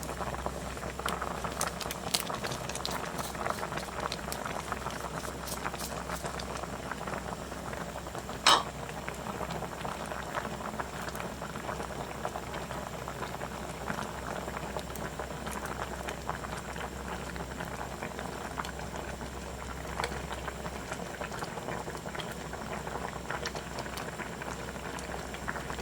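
Sinigang na bangus, a milkfish sour soup, simmering in a pot, a soft continuous bubbling with faint ticks and one brief clink partway through.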